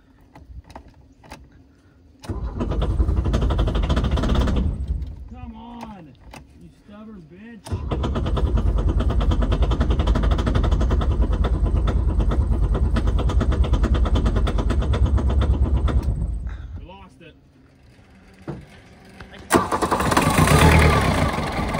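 An old Volkswagen Rabbit diesel that sat abandoned for 12 years cranks and catches, runs roughly, stumbles and dies, then restarts and runs steadily with a loud, close clatter while people talk over it.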